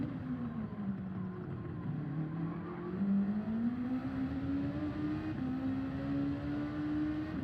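A race car in Gran Turismo 7 accelerates hard under full throttle, its engine whine climbing steadily in pitch and holding loud and close, with no talk over it.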